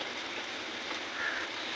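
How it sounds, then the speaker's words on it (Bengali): Heavy rain pours down steadily in a continuous broadband hiss, building slightly toward the end, with no voices over it. "ওই দেখো বৃষ্টি কিন্তু জোরে নামছে ওই দেখো আস্তে আস্তে বাড়ছে বৃষ্টির ইয়েটা"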